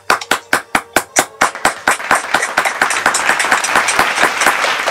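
A group claps together, starting with slow, sharp, evenly spaced claps that quicken and blur into dense, loud applause.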